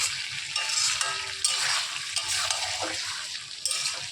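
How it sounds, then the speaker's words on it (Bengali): Meat is sautéed and stirred in a pan with spices in a home kitchen, giving a close, steady sizzle and frying hiss broken by scraping and stirring sounds, with no talking. "ভাবে মাংসটা কষানো হচ্ছে, তো মাই রান্না করছে।"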